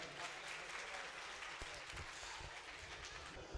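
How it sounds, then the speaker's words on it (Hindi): Audience applause at a Jashan-e-Azadi show in Gujranwala, steady dense clapping from a crowd throughout, with a few sharper individual claps standing out. "भरपूर तालियां।"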